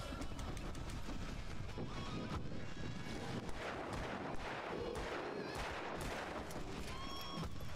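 Gunfire rings out in Alan Wake Remastered, a steady run of sharp shots and blasts over a constant windy, noisy background, with no clear gaps.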